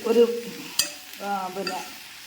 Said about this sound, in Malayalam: അതുകൊണ്ട് നമ്മളൊന്ന് കൂട്ടി ഇളക്കിയിട്ട്